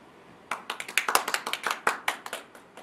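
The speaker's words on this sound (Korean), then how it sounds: "여러분 스스로 파이팅하고 박수 쳤으면" An audience at a university career lecture claps briefly. The scattered, quiet applause from a small group lasts about two seconds and fades out.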